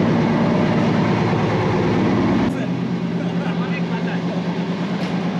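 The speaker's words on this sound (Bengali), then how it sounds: "আর এখন আজকে আমরা ট্রেনের মধ্যে" Inside a moving passenger train crossing on the rail route toward the Padma Bridge, a constant low rumble and rolling clatter fill the carriage, and the tone shifts abruptly midway, steady and close throughout.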